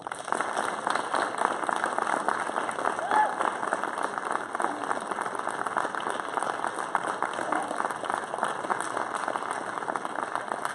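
Small group applauding in a recital hall after an art song is sung, steady dense clapping sustained for about ten seconds with a faint murmur of voices beneath.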